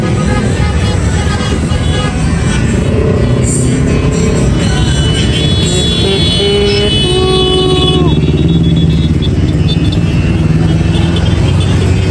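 Car and motorcycle horns honking in a street protest against corruption, loud overlapping toots and sustained blasts over steady traffic rumble, near and continuous.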